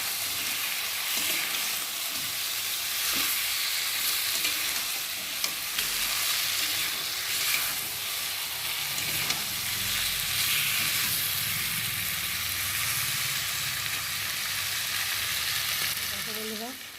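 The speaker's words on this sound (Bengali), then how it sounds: "এবার আমি দিয়ে দেবো চিকেনগুলো, দিয়ে চিকেন দিয়ে মশলার সাথে ভালো করে একটু কষিয়ে নেব।" Chicken cooks with masala in a pan, a loud, dense, steady sizzle running throughout with occasional stirring scrapes, close up and without talk.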